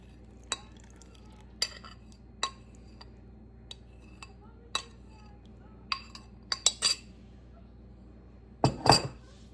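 Apple crisp ingredients tipped into a bowl: sparse light clinks and taps of utensils and dishes spaced over several seconds, ending in a louder clattering rustle near the end, in a quiet kitchen.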